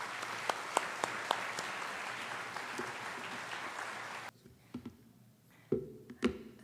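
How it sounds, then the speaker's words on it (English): Audience applause with many hands clapping fills the first four seconds at a steady, moderately loud level, then breaks off abruptly into a quieter room with a few scattered claps and soft thumps. "Could you please give Vic a round of applause"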